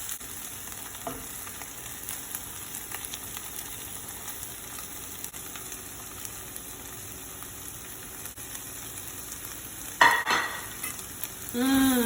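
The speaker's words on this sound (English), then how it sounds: "now we're going to go ahead and add our hot curry powder in this sauteed onions" Hot curry powder hitting sauteed onions in a pan for curry chicken, a steady low sizzle with soft stirring scrapes, then a sharper burst of sizzling and clatter near the end, without speech.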